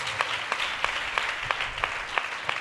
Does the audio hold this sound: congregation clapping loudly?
yes